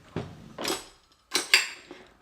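A spatula breaks apart chorizo in a hot pan, giving a few sharp scraping clanks of metal against the pan, close and separated by short pauses.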